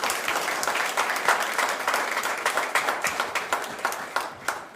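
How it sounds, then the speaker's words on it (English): Crowd at a criminal justice awards ceremony clapping, a full wash of applause that gradually breaks into more distinct, separate claps as it tapers off. "Guys ought to give her another round of applause for that smile"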